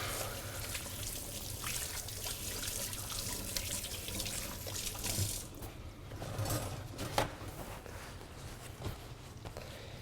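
Hands being washed under a running kitchen tap, with water splashing steadily into the sink for the whole stretch and brief louder splashes and rubbing partway through; no voices.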